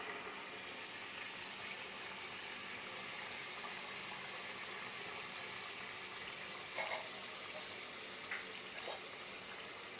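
A pastry sheet frying in hot oil gives a faint, steady sizzle and bubbling hiss, with a few tiny pops scattered through it and no talk.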